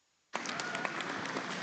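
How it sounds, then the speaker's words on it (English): After a brief silence, a crowd at a youth dairy cattle show at the 2025 Nebraska State Fair bursts into steady applause, many hands clapping together at an even, sustained level. "But all of them, give them all a round of applause."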